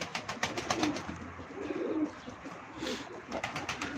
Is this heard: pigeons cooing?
yes